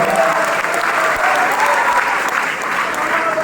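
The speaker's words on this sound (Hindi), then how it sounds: "एक बार जोरदार ताली से आप स्वागत करेंगे।" Audience applause at a youth expo at a college in Darbhanga, a dense, loud wash of clapping from a large crowd that stays steady and continuous throughout.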